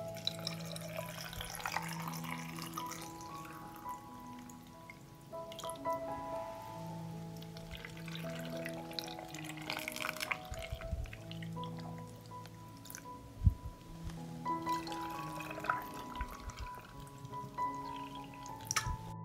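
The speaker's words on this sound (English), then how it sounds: "I will fill the jars with water to cover the tomatoes." Water from a tap pours and trickles into glass jars packed with tomatoes for home canning, a steady quiet running sound with scattered drips and light clinks throughout.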